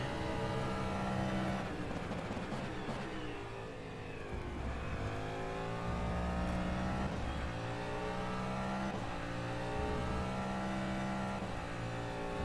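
DPi hypercar engine in rFactor 2 at Road America, a steady loud race engine revving up through rising gear pulls, with shifts and a dip when lifting off, and no talk.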